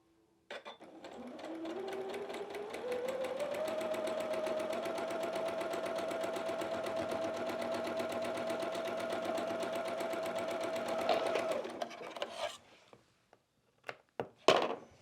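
A sewing machine stitches quilt pieces for a quilted snowman block in one long, even run of close, rapid whirring. The speed rises at the start, then it stops, followed by a few handling clunks.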